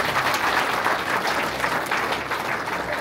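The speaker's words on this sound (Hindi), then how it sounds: "तालियां रुकनी नहीं चाहिए।" Enthusiastic applause from a crowd at a Brahma Kumaris inauguration ceremony in Kotli, Himachal Pradesh, dense and continuous with rippling claps, loud and close throughout.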